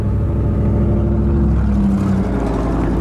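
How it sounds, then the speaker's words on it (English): A loud truck with no muffler passes close by, its deep, rough engine roar filling the whole moment with a steady, heavy rumble that shifts slightly in pitch as it goes. "But loud truck coming by."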